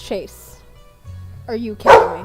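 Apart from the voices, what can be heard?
dog barking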